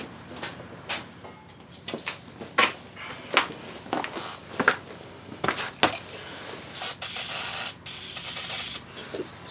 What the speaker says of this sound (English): Spray some of that PB Blaster on there.